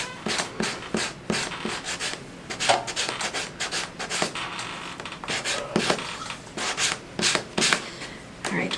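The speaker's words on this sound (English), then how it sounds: "sanding it down makes a difference" Steady back-and-forth rasping strokes of sanding on wood, close and fairly loud, in an uneven rhythm of repeated scrubbing passes.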